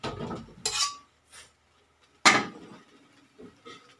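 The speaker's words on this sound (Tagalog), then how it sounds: "ibuhos na natin yung ating hipon at saka tahong" Shrimp and mussels tumble into a pan of seafood paella rice, giving a few sharp clattering bursts against the pan separated by quiet gaps, close by.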